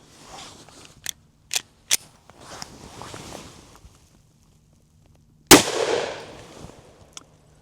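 A single loud, sharp shot from an HK CC9 9mm pistol firing Liberty 50gr +P ammunition, with a fading outdoor echo, preceded by a few faint clicks and handling noises.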